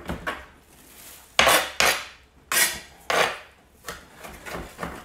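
A knife cuts onions on a board in a kitchen, several sharp separate slicing strokes with soft scraping between them, close and fairly loud.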